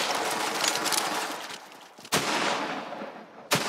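Weapons fire in the shooter game Borderlands 3: a loud, sustained stretch of rapid shots, then two sharp, punchy single blasts spaced over a second apart, with no talking.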